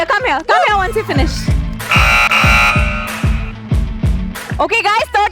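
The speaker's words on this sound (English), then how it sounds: "go and press your buzzer fast" Game show buzzer pressed on a TV contest set, a loud sustained electronic buzz lasting about a second, with a steady rhythmic thumping beat and a host talking around it.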